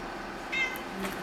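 A cat gives a short, faint meow over a quiet room background.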